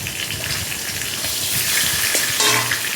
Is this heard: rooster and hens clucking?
no